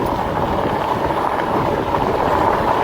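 Steady wind buffets a microphone on a fat-tire electric bike ride, a continuous loud rushing roar with no break.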